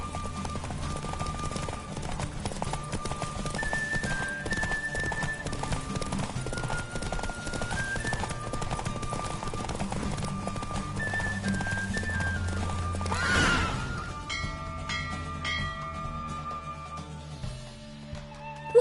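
Horse hooves clip-clop at a gallop in The Witcher 3, with a whinny, over loud continuous game music for most of the stretch, then a rushing swell before the music thins near the end.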